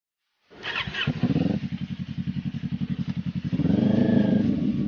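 Kawasaki Ninja 400 fitted with an SC Project exhaust starts up and revs close by, with a rapid pulsing idle that swells into a louder, sustained rev, heard alone.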